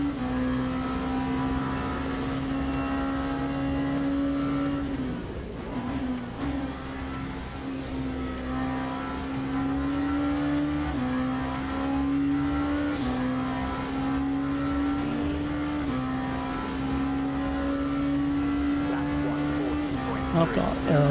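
Steady race car engine drone in the Le Mans Ultimate sim, an ABS-free car holding high revs with small stepped shifts and brief dips, continuous and fairly close under faint background sound.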